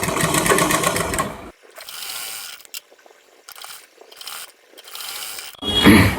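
A sewing machine runs a blouse seam in several bursts of rapid mechanical stitching, separated by brief pauses, close and fairly loud with no talk.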